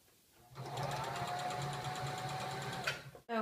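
A sewing machine stitches two elastic pieces of a simple skirt together in one quick continuous run, a close rapid whirring hum that starts abruptly, holds steady for about three seconds, then stops.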